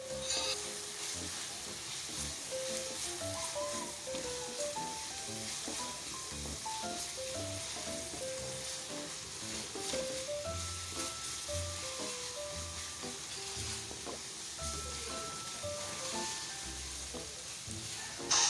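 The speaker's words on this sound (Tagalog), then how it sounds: "igisa-gisa muna natin at ayan natin lumabash yung mantika ng pork" Ground pork sautéing in its own rendered fat for a Filipino sisig with banana heart: a steady, close, loud sizzle and crackle runs throughout with occasional stirring scrapes.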